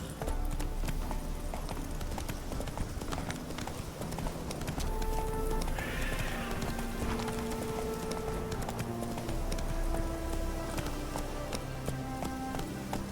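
A horse gallops with steady clip-clop hoofbeats in the video game The Witcher 3: Hearts of Stone, running continuously against a backdrop of game music and ambience, with a brief whinny-like burst midway.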